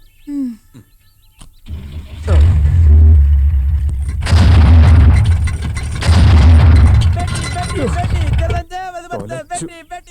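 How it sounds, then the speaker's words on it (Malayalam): Deep booming blasts of a fountain-type firework (pookkutti) rumble for several seconds, loud and close, with voices nearby and chirping at the end. "പൂക്കുറ്റിയുടെ വെടിപൊട്ടി"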